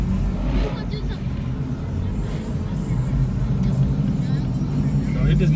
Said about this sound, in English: That's the Charger that made that noise.